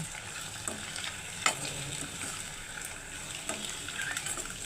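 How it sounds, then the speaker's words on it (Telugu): Eggs sizzle steadily in hot oil for egg pickle, a continuous close frying hiss broken by occasional stirring scrapes, with no voices. "ఎగ్స్ కొంచెం వేగాలి వేసుకున్న తర్వాత ప్రాసెస్ చేస్తాము"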